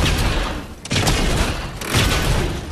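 The Mythic Recycler in Fortnite fires at player-built structures, giving loud, heavy booming blasts in about three bursts, each a thick rumbling discharge with a crashing impact, close and forceful.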